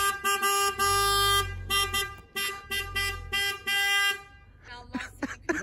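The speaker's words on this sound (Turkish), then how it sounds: "Korna çaldı, uyansın şunlar." A car horn honks several times in short and long blasts, loud and close, followed by a brief burst of talking.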